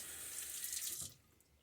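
A faucet runs close by, trickling water into a bowl of shaving soap lather for about a second before it shuts off, leaving faint quiet.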